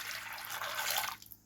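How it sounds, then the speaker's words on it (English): Warm water pours steadily into a bowl of Red Star active dry yeast for homemade bread, a continuous close splashing stream that tapers off near the end. "Then I'm going to add about 2 cups or 2 1/4 cups of warm water."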